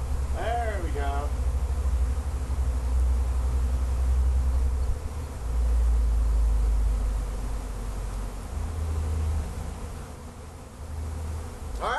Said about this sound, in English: there's a lot of bees flying around in here